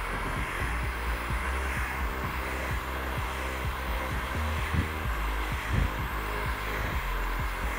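A hair dryer blows steadily as it dries a client's hair in a salon, giving a continuous close whoosh with soft bumps and handling thumps throughout.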